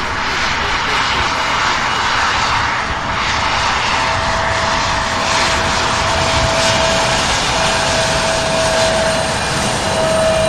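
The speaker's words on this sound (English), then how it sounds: "this Delta Flight 5704 coming out of LaGuardia, New York, at 14-year-old E175 comes in for landing on 35 right" A 14-year-old Delta Embraer E175 jet comes in to land on runway 35 right, its engine roar loud and steady throughout with a sustained whine riding over the broadband rumble.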